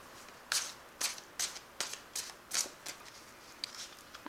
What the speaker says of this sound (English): I've shuffled these cards.